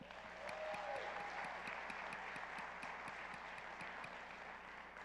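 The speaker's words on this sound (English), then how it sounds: "Give yourself a nice round of applause." An audience at a university accepted students day gives a round of applause, steady crowd clapping with rapid claps sustained for several seconds, moderately distant in a large hall.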